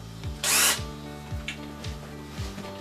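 A power drill gives one short, loud burst of whirring, followed by softer faint clicks and ticks over a rhythmic low mechanical pulsing.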